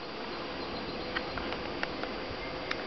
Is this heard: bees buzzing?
yes